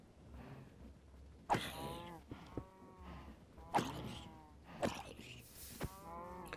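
Cows mooing in Minecraft, several drawn-out lowing calls rising and falling over a few seconds, moderately loud against a low background hum, with no talking.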